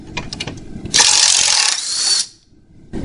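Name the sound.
wrench loosening steering bolt on frame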